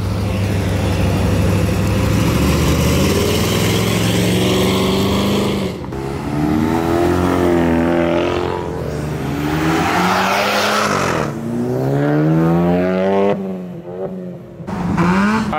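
A loud, close Mazda RX-8 engine revs repeatedly at a supercar show, pitch climbing and falling in sweeping waves with brief drops between pulls.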